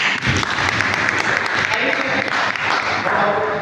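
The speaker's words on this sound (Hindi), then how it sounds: "सर के लिए ताली होनी चाहिए" A crowd claps for a speaker, with sustained applause close and loud throughout, and voices mixed in beneath it.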